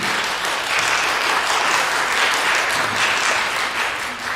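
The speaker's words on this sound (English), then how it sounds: "So let's give a round of applause for our panelists today." A round of applause from an audience for panelists at a roundtable event on Japan, loud and continuous crowd clapping that holds steady throughout with no voices over it.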